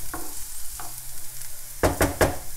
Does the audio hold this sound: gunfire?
no